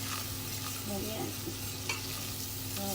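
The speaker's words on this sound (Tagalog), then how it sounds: "Mix lang natin sa butter." A spoon stirs flour into melted butter in a pan for a sauce. The pan gives a soft, steady sizzle and faint scraping throughout, with no talking.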